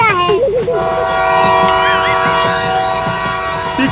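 A train passes close by with a loud, sustained horn blast whose tones waver and bend, over a steady rumble of rolling wagons.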